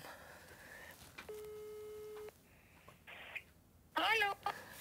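A phone ringback tone plays while a call is being placed: one steady electronic tone held for about a second, followed by scattered quieter beeps and a brief burst of higher warbling tones near the end.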